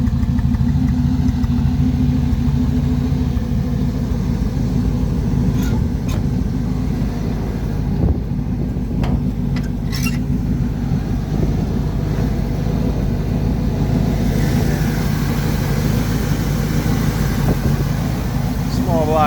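A small-block Chevy engine from a 1970s Corvette, fitted in an ex-mail truck, runs loud and close with a constant heavy rumble and slight revving swells while someone talks over it.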